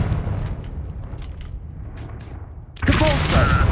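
The Confringo fire spell from the game Hogwarts Legacy goes off as a sudden loud explosive burst near the end, rising out of a low rumbling game background.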